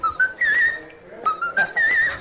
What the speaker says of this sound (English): The whistle register is the highest.